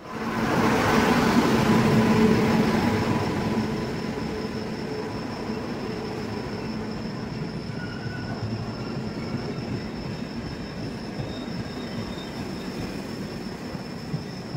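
A Garib Rath Express AC 3-tier passenger train rumbles steadily, loudest in the first few seconds then settling into a constant low roar of wheels and carriages, with no talking.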